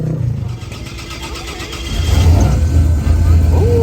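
Race car engine fitted with upper cylinder lubricant cranking and catching, settling into a loud low idle after about two seconds, with voices talking over it at a race day event.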